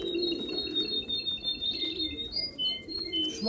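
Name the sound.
birds singing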